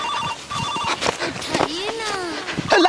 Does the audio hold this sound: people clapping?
no